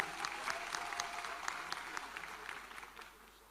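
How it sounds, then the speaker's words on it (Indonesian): A crowd of young entrepreneurs applauds Gibran with dense, sustained clapping, moderately distant, that gradually tapers off toward the end. "Kita berikan aplaus kepada Mas Gibran."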